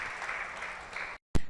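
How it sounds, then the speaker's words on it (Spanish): Church congregation gives a brief burst of dense clapping after a sermon, steady for about a second before cutting off abruptly, followed by a short loud thump. "dele un fuerte aplauso a nuestro Dios"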